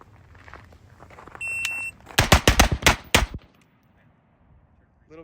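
A shot timer beeps, then an IWI Carmel pistol fires six rapid, loud shots in a quick string, with a quiet tail afterward.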